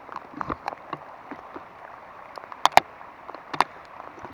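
Hail pelting the water surface of a lake during a metal-detecting outing, heard as scattered soft ticks and patters with a few sharper, louder hits, steady and fairly close, with no talking.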